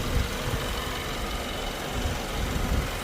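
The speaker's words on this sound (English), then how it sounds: "here is your beautiful little 4-cylinder, 2-litre motor" A 2013 Kia Cerato's 4-cylinder 2-litre engine idles with a low, steady, quiet hum and a faint rumble, no voices over it.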